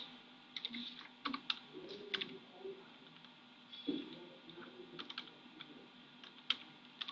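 Calculator keys tapped in quick irregular bursts during a math lesson, soft close clicks with short pauses between presses, faint and alone without talk.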